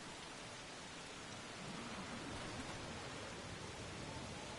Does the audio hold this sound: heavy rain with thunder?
yes